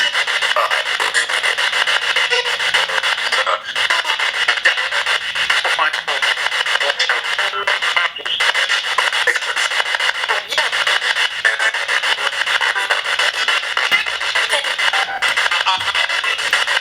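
Continuous harsh spirit box radio static with rapid choppy scanning, a dense hiss broken by brief dropouts and fragments, during a paranormal investigation at the Strauss Mansion.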